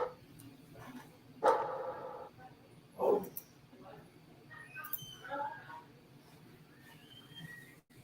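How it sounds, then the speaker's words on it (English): A dog at home barks at a delivery, letting out a few sharp, close barks spaced seconds apart, with quieter household sounds and some talk between them. "I didn't mean go back and bark more."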